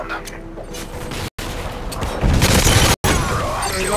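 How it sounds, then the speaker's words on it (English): Call of Duty-style game audio of a predator missile strike: a heavy explosive boom rolls in with crackling gunfire and debris, loud and sustained over a few seconds, with brief dropouts and faint voices underneath. "Friendly predator missile inbound."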